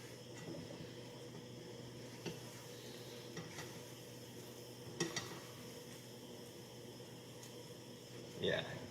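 A quesadilla cooking in a pan gives a constant low sizzle with a few light clicks, and a louder clatter of cookware near the end.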